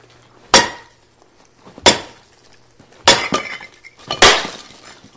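A carbon fiber wrapped barrel is swung like a golf club against concrete outdoors in the cold, giving four loud, sharp cracking impacts spaced about a second apart, each with a brief ringing decay, and no talking.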